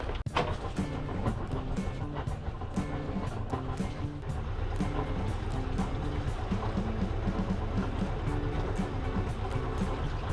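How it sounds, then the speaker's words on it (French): A sailboat's engine warms up at idle with a steady low, rhythmic chugging throughout, running evenly and moderately loud with no voices. "je vais chauffer un petit peu le moteur"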